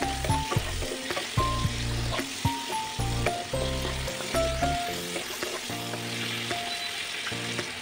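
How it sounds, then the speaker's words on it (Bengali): Chopped onion and tomato with a spoonful of salt fry in a pan, a steady close sizzle with stirring scrapes running throughout beneath sustained background music. "পেঁয়াজটা আর টমেটোটা ভালো করে ভেজে দেবো।"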